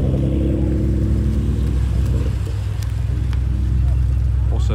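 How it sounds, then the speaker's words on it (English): A BMW M3 engine with an aftermarket exhaust idles with a deep, rumbling exhaust note, steady and close, with a slight rev near the start. "This is the first M3 that I've heard with an actual exhaust on it."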